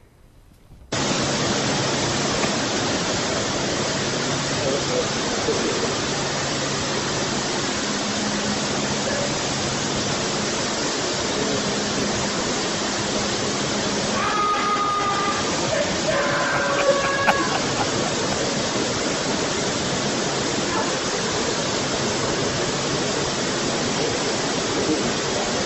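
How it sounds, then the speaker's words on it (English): Water from a shower sprays in a steady, loud hiss while a man washes his Segway, continuous and close, with brief faint tonal knocks partway through. "He's getting his Segway washed. He's taking a shower"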